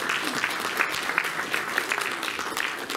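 Audience applause at a retro gaming keynote address at the Portland Retro Gaming Expo, a dense, steady clapping from a large crowd filling the room without pause.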